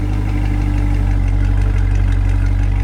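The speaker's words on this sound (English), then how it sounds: "So there it is, just idling." A completely stock Chevrolet Corvette engine idles steadily and a little high, with a deep, even rumble that holds close and loud throughout, no voices.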